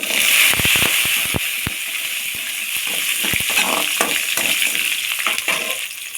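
Small onions hiss and sizzle in hot oil with fried lentils for a village-style kadamba coconut chutney, with sharp scraping clicks from the stirring spoon scattered over a continuous frying crackle.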